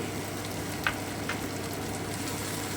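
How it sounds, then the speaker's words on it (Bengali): Vegetables for South Indian sambar fry in a pan with a soft, even sizzling hiss and a couple of faint clicks, quiet and unbroken for a few seconds. "আমি আরও কিছুক্ষণ ভেজে নিচ্ছি এই যে আমার সবজিগুলো কিন্তু মোটামুটি ভাজা হয়ে গেল"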